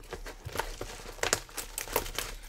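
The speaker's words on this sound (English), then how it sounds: "just use some scissors on the edge" Scissors cutting along the edge of a plastic mailing package, giving close crinkling and crackling of plastic in irregular bursts, with a few sharper snips and rustles.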